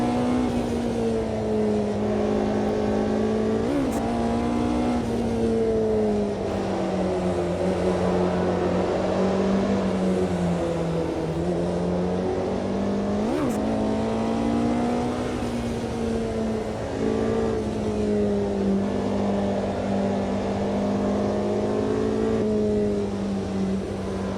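A Porsche 918 in the Automobilista 2 racing game, its engine droning loud and steady as it cruises and accelerates along a California highway, the pitch rising and falling gently with brief shift blips.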